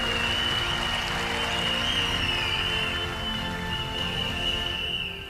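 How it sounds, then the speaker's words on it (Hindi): An audience claps loudly and continuously for a business team and its management at a company event, a dense, even wash of applause that holds steady for several seconds before tapering off at the end. "एक बार हमारी पूरी टीम के लिए, हमारी पूरी मैनेजमेंट के लिए एक बार जोरदार ताली होनी चाहिए।"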